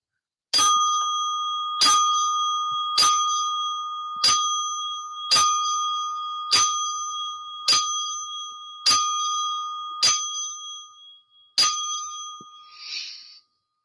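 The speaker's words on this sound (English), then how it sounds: "10-bell salute, real quick." A ten-bell salute rings out as ten sharp, bright bell strikes, evenly spaced about a second apart and each left to decay, followed by a faint final shimmer.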